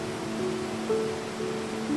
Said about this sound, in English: The water cascading from the falls is collected and stored in a place